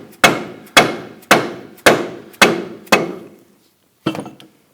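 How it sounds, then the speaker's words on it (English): Six sharp, evenly spaced rubber mallet taps driving a ball joint into a 2006-2010 Hummer H3 control arm, each with a short ringing decay, then a pause and one final tap. "go ahead and tap the ball joint in. Now I'm using a rubber mallet or a dead blow."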